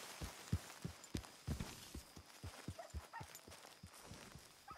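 Horse hooves clip-clopping in Red Dead Redemption 2 on PS5, a steady run of hollow, fairly close thuds at a walking pace over a busy background of game ambience, with no talk.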